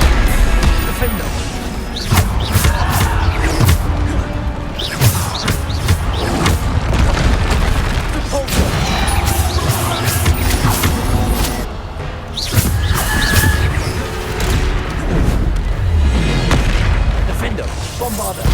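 Bombarda spell explosions in Hogwarts Legacy combat, loud repeated booms and crashing blasts layered densely with other spell effects and game noise, a sustained barrage with no pauses.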